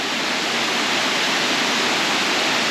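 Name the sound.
waterfall in a lagoon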